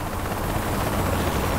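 A helicopter in the video game Saints Row: The Third drones with a loud, steady whirring rotor roar throughout, broadband and unbroken, with no speech over it.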